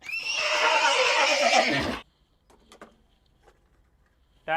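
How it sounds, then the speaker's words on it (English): An animal figurine toy plays a horse neigh, a loud, bright whinny lasting about two seconds, then quiet with a few small clicks and faint handling noise. "Horse."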